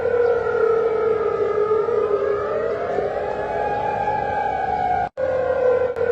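Civil defense air raid sirens wailing during an Iranian missile attack on the Gulf, a loud sustained rising and falling tone that drops out briefly near the end before resuming.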